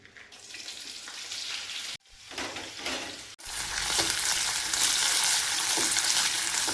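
Green chillies hit hot oil in a home kitchen pan, giving a sharp burst of sizzling and crackling that breaks off twice and then swells into a loud, steady, close frying hiss.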